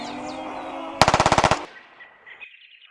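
A burst of rapid automatic gunfire from the video game Days Gone, about ten quick close shots in a row, followed by a faint ringing tail and a few distant chirps.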